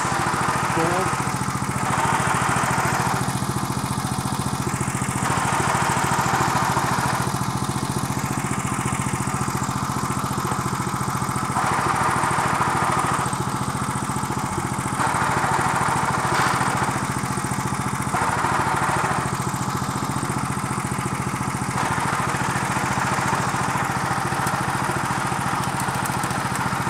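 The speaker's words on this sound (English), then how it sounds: "Got an engine that works on 10-year-old" A 1963 Bolens Husky 600 lawn tractor engine runs continuously, a loud, steady mid-pitched drone that rises and falls slightly in cycles over nearly half a minute, with no talk over it.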